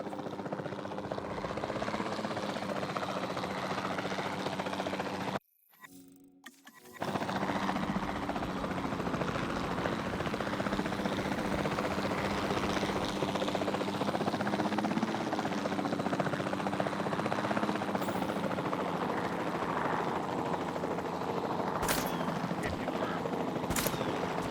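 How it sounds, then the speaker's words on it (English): Capture team helicopter from the game Jurassic World Evolution 2, a steady loud rotor drone running throughout with a brief dropout near the middle and faint game effects on top. "the sensible thing is to take a capture team helicopter"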